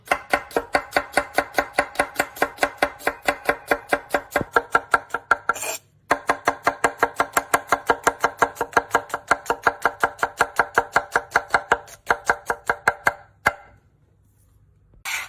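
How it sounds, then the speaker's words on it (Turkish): Rapid, steady knife chopping of onions on a cutting board, dozens of crisp close taps in even rhythm, pausing briefly twice before stopping. "Evet soğanlarımızı doğradık."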